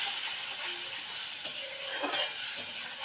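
A paste of ground ginger, cumin and coriander, with a green chilli, sizzles steadily in a hot pan for a light koi fish curry, a close continuous hiss with a few brief crackles and stir scrapes.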